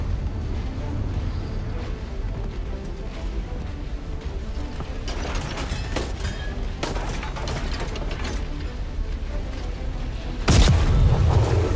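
A shotgun turret in the video game SAND fires amid steady mechanical clanking and ratcheting, ending in a heavy, loud boom near the close.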